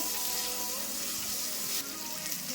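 Vegetables sauteing in oil in a pan for sambar, a steady broadband sizzle with a few faint clinks, continuous and close throughout.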